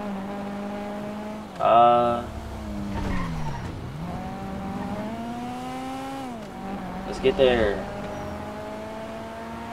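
Car driving and skidding in Grand Theft Auto, with a steady engine drone that bends up and down and two short loud tire screeches, one early and one near the end, while someone talks over it.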